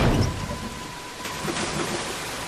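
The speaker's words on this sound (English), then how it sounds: "Nice little rainy day." Steady rain pours down in a constant hiss in the video game Dead Island Riptide, with a low rumble like distant thunder beneath it and no voices.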